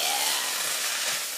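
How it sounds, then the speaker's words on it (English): Kale greens sizzle in a hot pan with a little oil, a steady close broadband hiss that holds evenly and without a break. "Sizzle, baby, sizzle."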